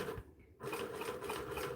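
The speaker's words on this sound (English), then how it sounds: "we're gonna sew this slow to make sure that it behaves itself" A sewing machine runs at slow speed with a steady mechanical stitching hum, briefly pausing before resuming; quiet and close.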